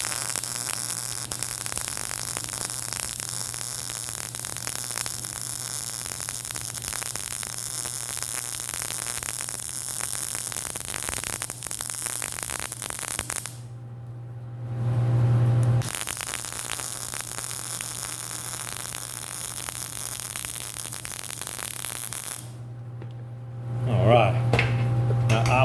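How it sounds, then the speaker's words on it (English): Electric arc welding of a bracket on a John Deere dump bed motor gives a steady crackling hiss over a constant mains hum, broken by two short pauses, at moderate loudness with no clear speech. "I'm going to run this the opposite so you can watch the weld."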